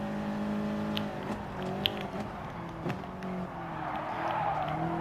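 Race cars in Gran Turismo Sport, including a Toyota and a Volkswagen, roar through a race with steady layered engine drones, shifting pitch, and the occasional tire squeal, close and loud throughout.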